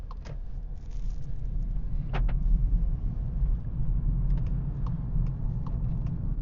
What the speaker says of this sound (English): put it in drive, handbrake down, and let's go find some nice roads